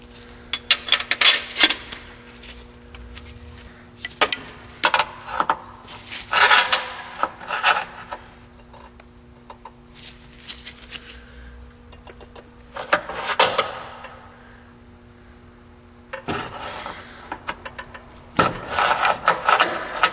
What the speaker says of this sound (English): Prying this into place actually is somewhat effective.